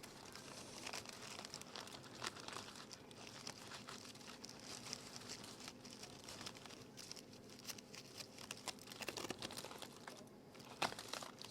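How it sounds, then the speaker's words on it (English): Aluminium foil wrapped around brisket burnt ends is peeled open with continuous close crinkling and crackling, steady and quiet throughout, with a few sharper rustles toward the end. "we're just going to open up this foil"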